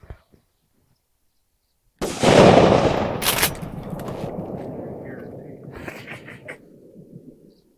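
A single loud shotgun blast during a turkey hunt in foggy Vermont woods breaks the silence, then rolls away in a long echo that fades over several seconds, with a brief flutter near the end.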